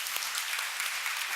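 An indoor audience claps steadily at the close of an academic talk, a dense continuous applause with no speech over it.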